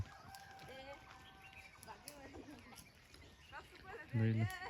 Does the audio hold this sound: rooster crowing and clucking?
yes